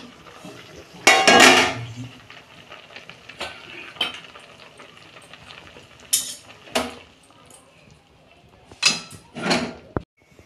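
A metal pot lid lifts off a pot of boiled banana blossom in a home kitchen, giving a bright clatter near the start, then scattered clinks and scrapes of cookware with a sharp knock near the end, no talking.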